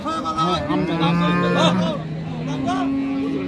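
Friesian cows with calves at a Tangail cattle market moo in a run of drawn-out, tonal lowing calls, one after another, close and fairly loud.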